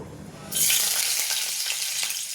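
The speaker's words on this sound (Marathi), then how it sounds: "आता मी तेल टाकले 2 चम्मच। आता आपण आधी लसूण टाकून घेऊ" Garlic dropped into two spoons of hot oil bursts into a bright, loud sizzle after a quiet moment, then keeps frying steadily with faint stirring, close up and without talk.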